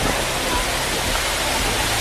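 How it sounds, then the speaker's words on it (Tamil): Looking Glass Falls in Pisgah National Forest pours down as a steady, dense rush of water, a constant broadband roar heard close and without pause. "இதே கிளாஸ் மாதிரி தண்ணி விழுந்துட்டு பாருங்கள்."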